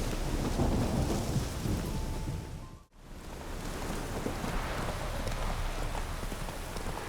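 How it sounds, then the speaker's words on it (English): Rain pours steadily with rolling thunder in a thunderstorm in the video game The Witcher 3, a dense continuous wash that briefly dips out before resuming. "the night is coming in, the rain's coming in as well"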